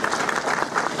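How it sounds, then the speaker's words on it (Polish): Audience in Poznań gives a choir from Ejszyszki a steady round of applause, a dense, continuous patter of many hands at fairly even loudness. "Brawa dla niego, proszę Państwa"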